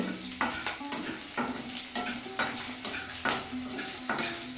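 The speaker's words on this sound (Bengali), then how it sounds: "এবার আমি দুটো কাঁচা লঙ্কা চিড়ে দিলাম আর কালো জিরে ফোড়ন দিয়ে দিলাম। একটুখানি ভেজে নেব।" Slit green chillies and black cumin seeds fry in hot oil, a bright steady sizzle close by, marked by about seven rhythmic spatula scrapes against the pan.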